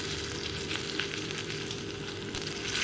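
Bitter gourd frying in oil in a non-nonstick kadai, an even, continuous sizzle heard up close with faint stirring scrapes, no talking.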